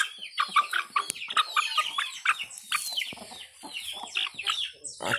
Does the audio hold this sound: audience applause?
no